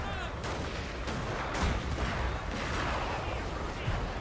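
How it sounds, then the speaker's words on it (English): Line infantry in a video game battle of Toba-Fushimi fire musket volleys, a dense crackling of many overlapping shots rolling on continuously at moderate distance. "my line infantry is now opening fire into the flanks of the enemy line infantry"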